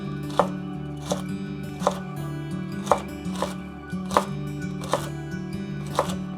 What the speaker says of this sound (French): Ensuite, je vais les couper en julienne. Les couper en tout petits cubes.